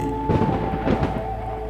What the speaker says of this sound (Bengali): আকাশ জুড়ে বেজে উঠল ঝড়ের জগঝম্প